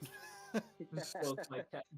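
A voice imitates a cat's meow in a few short, drawn-out mewing calls, with speech mixed in around them.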